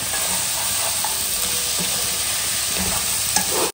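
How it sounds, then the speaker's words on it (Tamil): Crab pieces being stirred into softened tomatoes in a pan make a continuous close sizzle and frying hiss, with scraping stir sounds and small clicks throughout, no voices. "நண்டு சேர்த்து நல்லா மிக்ஸ் பண்ணிக்கலாம்"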